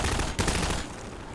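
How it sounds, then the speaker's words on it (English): Enemy gunfire in the video game Half-Life 2 crackles as a dense burst of rapid shots, loud and close, that breaks off suddenly and gives way to a quieter tail. "Who's shooting at me?"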